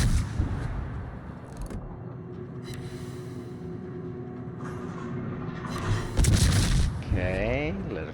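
Naval gunfire in a warship video game as shells are fired at the carrier Shokaku: deep booms and rumbling blasts over a steady engine drone, with a louder burst near the end, while someone talks over it.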